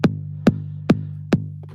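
Programmed kick drum pattern built in BandLab, four deep, punchy electronic kicks landing evenly on each beat with a low sustained boom between hits, alone with no talking.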